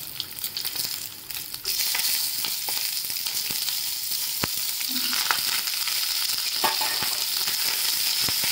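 Red chilies, urad dal and curry leaves hit hot oil in a pan with a loud, steady sizzle that continues with stirring scrapes and small pops, close up and without voices.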